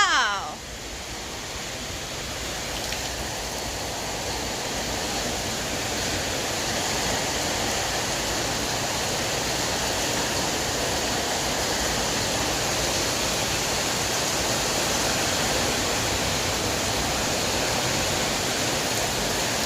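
Heavy rain pours down in a dense, steady hiss that swells slightly and stays constant throughout.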